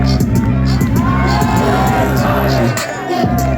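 A concert crowd shouts and cheers over loud thumping music with heavy bass, voices whooping in a dense, energetic mass close by before the music briefly drops out.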